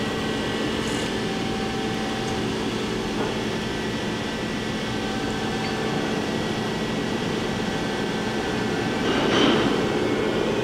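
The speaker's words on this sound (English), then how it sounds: "Right now the spindle is running at 30 in gear range 1." The spindle of a 2007 Johnford ST-40G-CF CNC lathe runs at low speed in the first gear range, giving a steady, loud mechanical hum and drone with faint tonal whine throughout.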